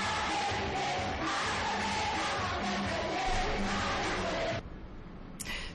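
A crowd at a student event in Cameroon cheers and chants loudly and continuously, with yells rising over the din, before the noise drops away abruptly near the end.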